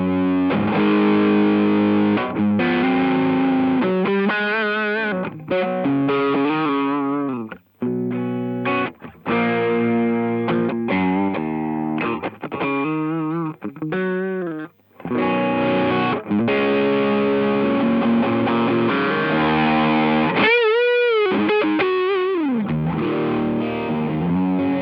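An electric guitar plays through a heavily overdriven Boss BE-5 pedal with the drive cranked, gritty and saturated, with sustained chords and melodic runs and a few brief gaps between phrases.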